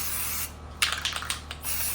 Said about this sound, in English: Should we spray shimmer first?